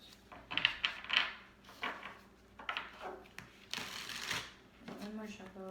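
Quick papery riffles of cards being shuffled, a few bursts in a row, with a person talking softly in between.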